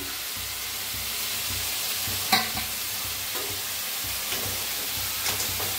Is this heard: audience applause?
no